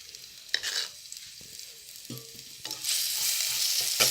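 Green chillies and garlic sautéing in coconut oil for tomato rasam: a soft crackling sizzle with occasional spoon scrapes, swelling into a brighter, louder frying hiss near the end, close by and without talk.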